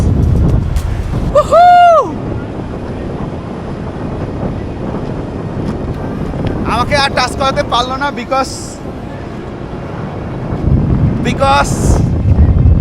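Strong sea wind at Cox's Bazar beach buffets the microphone as a steady low rumble through the whole stretch, with people talking over it at intervals.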